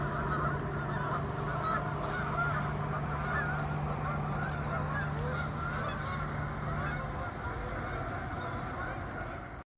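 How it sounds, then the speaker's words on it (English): A flock of geese honking as they launch off a lake, many overlapping calls in a busy, continuous chorus, fairly close and steady before fading slightly toward the end. "We got to see the geese launching off of the lake"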